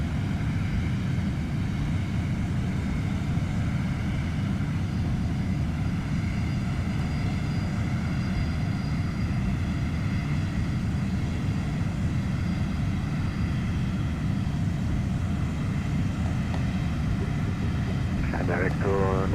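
Steady broadband engine roar of an A320 in a home-cockpit flight simulator during takeoff, a continuous loud drone with tonal hum throughout, with a brief burst of higher sound near the end.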